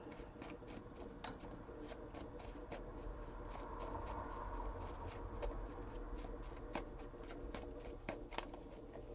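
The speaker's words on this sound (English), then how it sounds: "You want me to shuffle?" A deck of cards is shuffled repeatedly, with crisp riffling bursts and soft snaps recurring over several seconds, close by and fairly quiet, no voices present.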